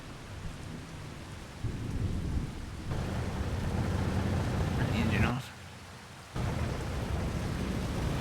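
Howling dust devil storm with rumbling thunder and rain in Farming Simulator 25 on a Montana plains map: a loud, continuous roar that briefly drops away, then returns, with someone speaking over it.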